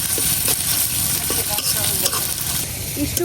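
Onion with ginger-garlic paste frying in oil while being stirred, for a pumpkin dal, gives a steady, close sizzle broken by scraping strokes of the spoon, with no voices.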